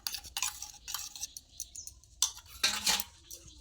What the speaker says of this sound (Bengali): এইভাবে ফেটিয়ে ফেটিয়ে মিশিয়ে নেব।